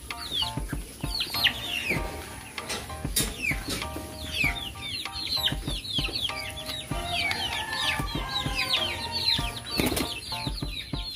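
A flock of month-old Rhode Island Red chicks chirps and clucks continuously at close range, with repeated bursts of wing flapping and scuffling throughout.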